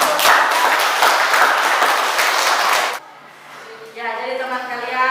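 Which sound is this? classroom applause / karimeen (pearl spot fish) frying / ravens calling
classroom applause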